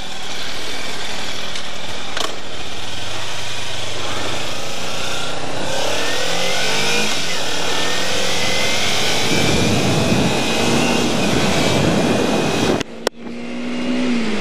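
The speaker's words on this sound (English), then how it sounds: "just give it a little throttle" A motorcycle engine revs under light throttle on a road near Airdrie, a steady close mid-pitched drone rising and falling with rising whine tones, growing rougher and louder in the last few seconds before a brief cut.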